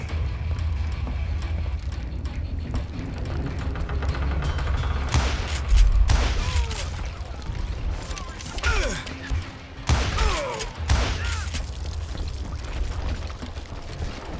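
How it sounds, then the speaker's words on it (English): Gatling gun fire in the Western shooter Call of Juarez: Gunslinger, a loud close fusillade of rapid shots and clattering mechanisms, with heavy booms and bursts over a dense, steady battle din. "a fusillade of bullets come raining down from on high"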